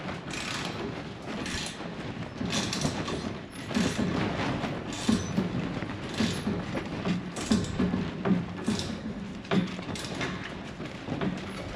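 Metal gate hardware is tightened in a rhythmic series of ratcheting, grinding mechanical clicks and creaks, close by and fairly steady.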